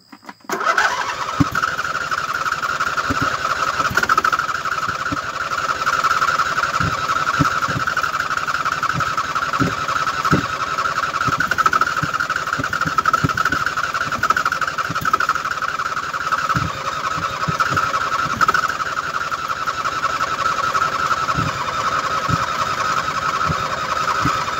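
Husqvarna YTH2454 lawn tractor, a 2007 model, with its engine running steadily after starting, a loud continuous mid-pitched drone with irregular knocks and ticks throughout, close by and with no talking.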